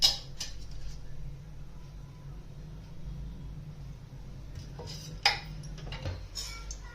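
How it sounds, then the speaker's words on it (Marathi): A kadhai set on a gas stove with oil added to it: a few light metallic clanks and clicks, one sharper knock near the end, over a low steady hum, with no talking. "गॅसवरती कढई ठेवली बघा. आता त्याच्यामध्ये तेल टाकून घेऊया आपण."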